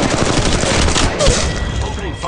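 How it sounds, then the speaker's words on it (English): Rapid automatic gunfire in the mobile battle royale game Apex Legends Mobile, loud and dense throughout, with heavy in-game effects mixed in. "Opening fire on the enemy."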